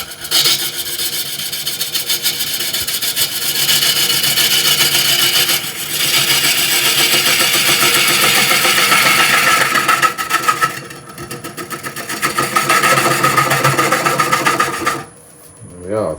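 Skew chisel squaring off a cherry root ball spinning on a wood lathe: a steady, loud scraping hiss of steel cutting wood runs nearly continuously, dipping briefly a few times, then stops near the end.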